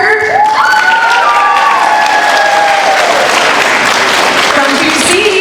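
Second-grade students at a grade school musical cheer and applaud for their teacher, a loud burst of clapping and shouting from a crowd with excited voices rising over it.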